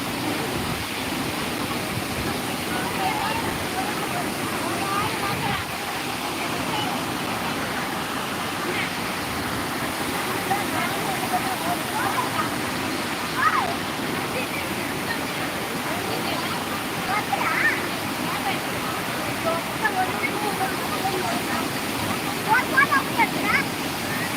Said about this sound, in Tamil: தண்ணி எப்படி போயிட்டுருக்கு பாருங்கள்